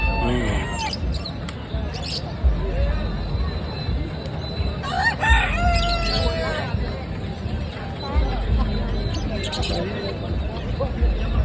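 Several birds calling and crowing, including rooster-like cries, scattered through a noisy outdoor scene with people talking in the background, at a place that also keeps horses and goats.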